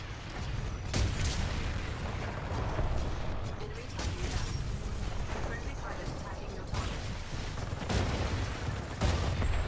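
Titan sentry turret in a video game firing steady bursts of heavy automatic fire, dense and continuous over rumbling game noise, with several sharper bangs standing out.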